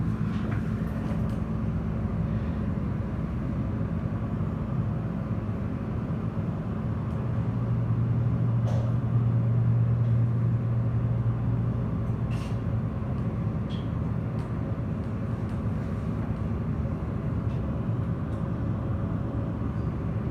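An older Dover Impulse hydraulic glass elevator runs at Milwaukee Mitchell Airport ticketing, giving a steady low mechanical hum and rumble that holds evenly throughout, with a few faint clicks on top.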